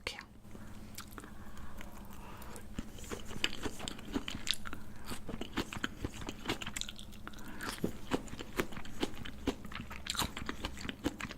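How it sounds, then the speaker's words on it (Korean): Close, quiet chewing of salmon sashimi topped with onion and dipped in chili sauce, with soft crunches and wet bites repeating irregularly throughout, plus occasional murmured sounds from the eater. "양파 올려서 초고추장에 찍어 먹어."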